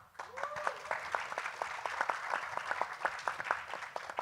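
A modest audience at a literary event claps in a sparse, fairly quiet round, with individual claps distinct and spaced out and a brief voice heard near the start.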